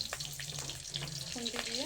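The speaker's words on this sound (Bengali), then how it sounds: "পাঁচফোড়ন, কাঁচা লঙ্কাকে একটু ফাটিয়ে দেবো" Panch phoron and green chillies crackle in hot oil as a steady hissing sizzle with scattered pops, and a voice briefly starts near the end.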